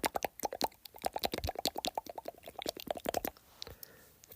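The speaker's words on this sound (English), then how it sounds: "That's the sound of rain." Rapid, irregular plopping drips patter close by, a dense run of wet taps that thins out and fades near the end.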